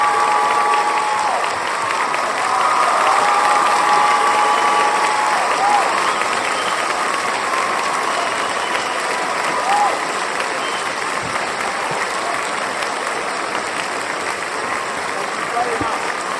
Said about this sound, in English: Another round of applause for Graham Hancock